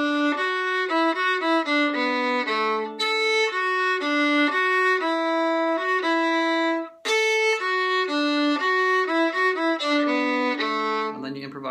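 A fiddle plays the tune Angeline the Baker alone, with steady sustained notes moving up and down, ending in a brief flourish.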